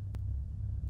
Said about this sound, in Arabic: هدي هدي صوت السيارة صاير عالي وعم تعطي